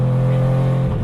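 Rob Dahms' three-rotor Mazda RX-7 engine holds a loud, close, steady drone that dips slightly at the end of a brief burst.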